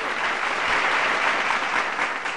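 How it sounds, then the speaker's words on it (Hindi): An audience applauds during a live Hindi folk song performance, with dense, even clapping from a crowd filling the whole short stretch. "और सही हो तो फिर एक बार ताली बजा दो"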